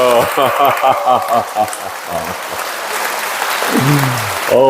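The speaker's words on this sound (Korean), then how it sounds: "우리 기쁜 마음으로 응원의 박수 쳐주세요." A Catholic church congregation applauds to welcome newcomers at an enrollment rite, loud sustained clapping that rises after a voice speaks at the start and continues under further speech at the end.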